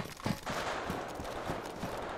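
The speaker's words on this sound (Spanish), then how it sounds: "¿Lo escucháis? Los tiros." Gunshots in DayZ crack out as several distant shots in an irregular series, with faint ambient noise between them and no speech.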